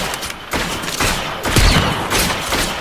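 Gunfire in a video game, heard as a loud, dense run of repeated shots and thuds with irregular bursts over a noisy background, close and continuous, with no clear talking.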